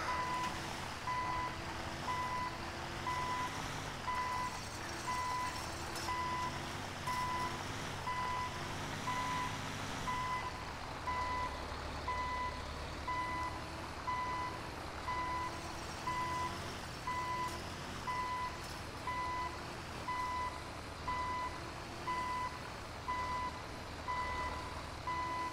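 Freightliner medium-duty truck in GTA 5 backs up towing a Silverado limo, its reversing alarm beeping in a steady, evenly spaced pattern over a low engine rumble and music throughout.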